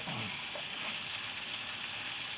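Honey-soy glazed salmon fillets sizzle steadily on a hot Blackstone flat-top griddle, a continuous close crackling hiss with no talking over it.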